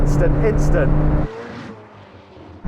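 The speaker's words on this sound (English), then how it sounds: "Oh, those gear shifts, they're just like instant." A McLaren 765LT supercar engine roars loudly and steadily, then abruptly drops off to a lower, quieter rumble before surging again at the end, while someone talks over it.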